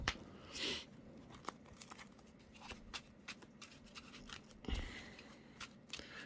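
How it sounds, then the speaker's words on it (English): Trading cards are shuffled by hand at close range, giving soft riffling, flicking and snapping noises in quiet, irregular bursts. No one speaks. "We're gonna shuffle this one."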